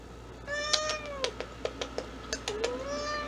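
A cat meows repeatedly at close range, with a series of short, rising and falling cries over a quiet indoor background.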